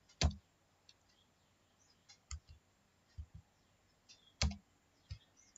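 Keys on a computer keyboard are tapped in a sparse, irregular series of faint clicks. A couple of sharper, louder presses stand out against a quiet room.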